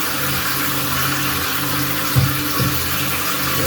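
Tap water runs steadily into a sink while raw chicken is rinsed before a sour orange and vinegar wash. The flow is close and continuous, with a couple of soft knocks near the middle.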